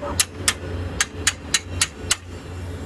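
Seven sharp hammer blows drive a spring into a Kverneland CLC stubble cultivator, ringing out at a steady, slightly uneven pace, close and loud over a quiet background.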